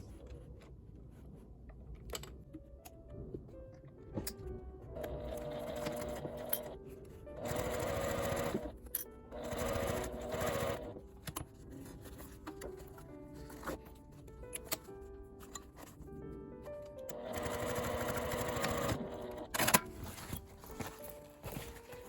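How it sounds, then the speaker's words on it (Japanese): A home sewing machine topstitches the edge of a fabric box pouch with a 12 cm side zipper, its motor whirring in steady bursts with short pauses between runs, close and fairly quiet. "表側に返して端を揃えて引くようにして端ミシンをかけます。"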